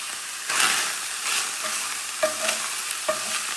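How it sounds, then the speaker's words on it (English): Spinach being stirred around in a hot frying pan, with a steady sizzle and a few soft scraping and clinking strokes, close and alone. "Give that a stir."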